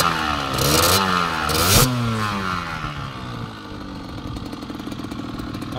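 A 2010 Rieju Tango motorcycle engine with a connecting rod knock revs hard twice, then settles into a rough, rattling idle, loud and close, with no voices.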